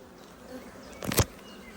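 Honeybees in a nuc hive give a faint, low background hum, then one bee buzzes close by for a brief moment before fading.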